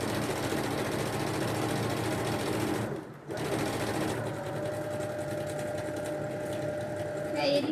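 A sewing machine stitching a seam along a zipper on a pouch, a fast, steady close mechanical whir that briefly stops, then resumes more lightly.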